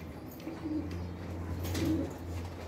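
Pigeons coo at a bird-trapping spot, two soft, low coos spaced about a second apart over a steady low background hum.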